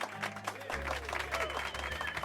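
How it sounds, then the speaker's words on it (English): Applause and crowd noise fill a late-night interview stream, with a steady wash of clapping under some talk and a low hum. "Oh my gosh, the applause."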